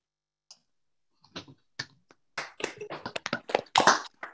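A small online meeting audience unmutes to applaud speakers after a mountaineering talk: a few scattered claps and taps build up over several seconds into uneven, close-miked clapping from several microphones.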